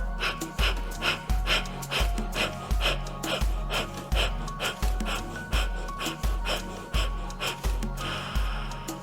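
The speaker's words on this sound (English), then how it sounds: "Take a big deep breath in and rapid breaths out." Rapid, forceful breath-of-fire exhalations during a vinyasa yoga practice, pulsing in a steady quick rhythm of roughly one and a half per second, close and distinct, with no talking over them.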